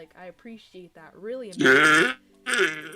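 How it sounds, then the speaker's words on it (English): A loud, drawn-out burp rises over a casual chat, followed by a second shorter eructation; a voice speaks just before it. "That was a great burp."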